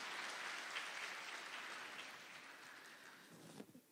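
Faint, distant clapping from a church audience during an Indonesian sermon, a dense even patter that slowly tapers away with a few louder claps at the end.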